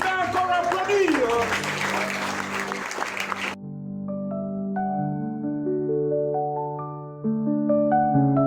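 Audience applause at a dignity-kit distribution event in Goma, a few seconds of dense clapping mixed with voices, then cut off as a melodic ringtone-like tune takes over.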